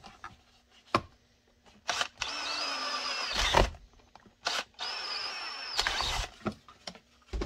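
A power drill with a 7/32-inch bit whirs in two sustained bursts of a couple of seconds each, separated by short clicks and knocks, close up with no talking.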